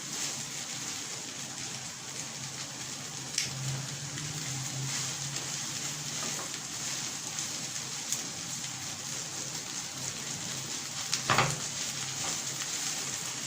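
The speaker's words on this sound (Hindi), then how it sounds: "मैं चिकन को फ्राई कर रहा हूँ" Chicken fries in a pan with a steady, soft sizzling hiss and occasional faint pops and crackles, continuous and close.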